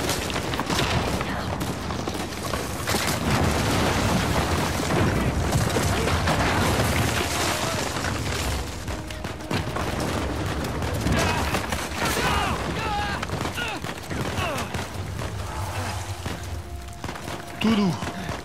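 Scattered gunshots and booms from Uncharted 4, set in Madagascar, pop out of a busy game mix, mostly under near-constant talking.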